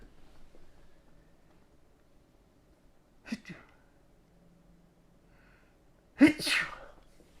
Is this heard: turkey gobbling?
no